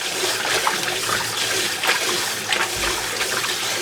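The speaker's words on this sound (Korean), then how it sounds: "찬물에 얼른 덜어내서 한번 헹궈줄게요" Cooked food is tipped into cold water and rinsed, producing a steady close splashing and trickling wash of water that runs continuously throughout.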